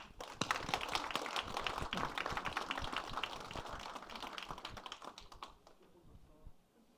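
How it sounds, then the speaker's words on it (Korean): A forum audience applauds at an agricultural vision event, sharp scattered claps building into a moderate round that thins and fades toward the end, heard from a slight distance. "박수 한번 주십시오."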